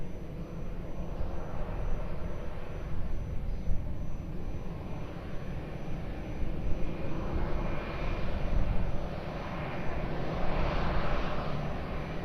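Airplane engines roar steadily as a jet takes off from runway 02 at Lisbon Airport, a broad sustained rumble that swells slightly toward the end, heard from a distance with no voices.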